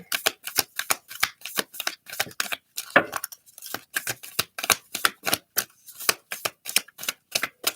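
A deck of tarot cards is shuffled by hand in a steady, rapid rhythm of crisp snapping riffles, close and fairly loud, with no one talking.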